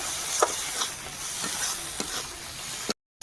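Pointed gourd mash being stirred in a wok, a soft steady sizzle with faint scraping strokes at intervals, fairly quiet and with no talking.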